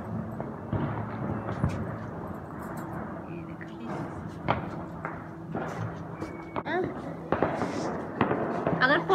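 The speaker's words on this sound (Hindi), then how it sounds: "यही पटाखे फोड़ते हैं" Diwali firecrackers burst in scattered sharp pops during a family celebration in Dehradun, some close and some farther off, under steady background chatter and voices throughout.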